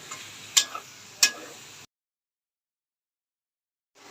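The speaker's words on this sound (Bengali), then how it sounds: "দেখুন, তাহলে পেঁয়াজটাকে ভেজে নিচ্ছে" Onions frying in a pan for a chicken roast, a soft steady sizzle with two sharp stirring clatters, then the sound cuts to silence before briefly returning.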